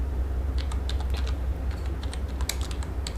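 Computer keyboard typing during data entry in Tally Prime accounting software: a quick, irregular run of light key clicks, close and clear over a low steady hum, with no voices.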